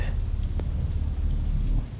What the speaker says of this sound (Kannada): ಆಚೆ ನೋಡಿದ್ರೆ ಅಷ್ಟೊಂದು ಮಳೆ ಬರ್ತಾ ಇದೆ